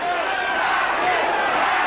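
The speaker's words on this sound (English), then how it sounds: "Now, they're cheering for Matthew Saad Muhammad, first title defense" Boxing arena crowd at a world championship title fight, the final round of Matthew Saad Muhammad's first title defense against John Conteh, roaring and cheering in a dense, steady wall of noise with no let-up.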